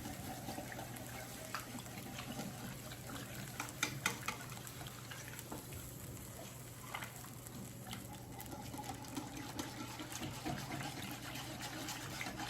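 Water is poured into turkey drippings in a roasting pan to make gravy, a quiet continuous liquid patter and trickle with no talking.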